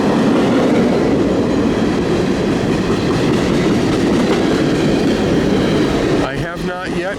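A CN freight train rolls past close by at the Denfield Road bridge, a loud continuous rumble with rhythmic wheel clatter over rail joints that eases and thins near the end.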